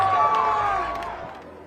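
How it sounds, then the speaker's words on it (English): A large crowd of about 50,000 cheers and buzzes at the Indianapolis speedway during a total solar eclipse. The roar is dense and steady, with scattered whoops and shouts, and it fades slightly toward the end. "The crowd is really buzzing."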